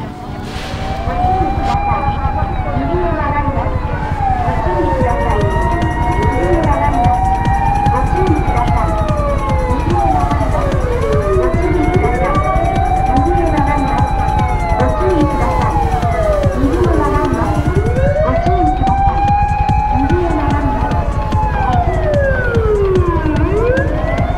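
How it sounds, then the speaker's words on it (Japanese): Multiple emergency vehicle sirens wail loudly and continuously on a Japanese road, their rising and falling tones overlapping throughout, with a voice speaking now and then. "もう止まってもう止まってサイレン聞こえてるでしょう"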